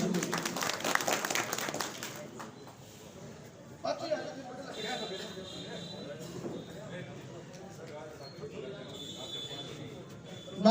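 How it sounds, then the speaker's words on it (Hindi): At a BJP honours ceremony held for Makar Sankranti, a crowd bursts into brief, energetic clapping that quickly gives way to someone speaking over a loudspeaker with scattered background noise. "जोरदार तालियां"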